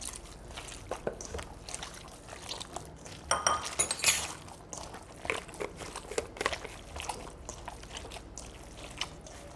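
Ground meat filling for Mongolian buuz, with onion, garlic, seasoning and water, being mixed in a bowl: wet squelching and soft clinks against the bowl, irregular and close, with a louder burst of clatter near the middle.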